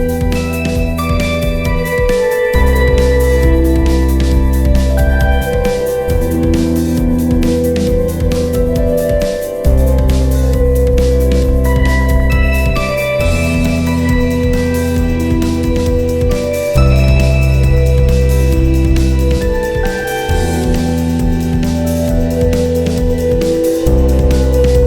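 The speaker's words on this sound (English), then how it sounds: "like turn it into a reverb tremolo" An Old Blood Noise Sunlight Stereo pedal set as a reverb tremolo, a loud washy guitar sound with chords pulsing in a steady throb, each chord change ringing into long reverb tails, alone with no voice.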